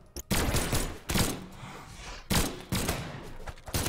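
Gunfire rings out in the fighting game Brawlhalla, a series of sharp, loud shots arriving in uneven clusters of two or three close together, set against quieter game sounds.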